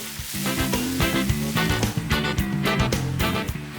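Cassava peels are stir-fried in a pan, giving a loud continuous sizzle with stirring, close up and without talk.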